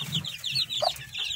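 Soft, repeated clucking from a hen with week-old chicks close by, with a brief higher chirp partway through over a low background murmur.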